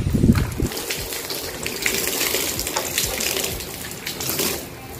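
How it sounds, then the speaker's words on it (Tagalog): Water gushes steadily while soapy water is rinsed off the parts of a Yamaha Nmax V2 scooter during a brake fluid flush, a continuous close splashing wash. "Banlawan natin ang tubig na may sabon"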